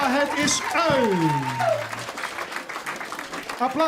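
Audience applause rises after a Dutch-language song, starting under a sliding voice and continuing as a steady, moderately loud clatter of clapping.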